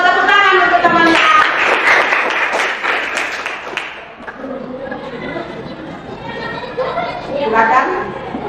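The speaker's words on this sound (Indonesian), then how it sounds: "Tepuk tangan untuk teman-teman." Students in a classroom clap for their classmates with a loud burst of applause mixed with chatter, which fades as children's voices carry on and a few claps return near the end.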